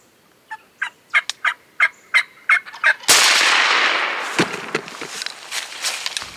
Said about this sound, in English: if I call and he gobbles, I'm gonna shoot him